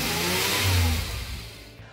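A 1968 Chevrolet Bel Air wagon engine at a hot rod and custom car show, a loud, deep roar swelling as it revs and passes close by, then easing off.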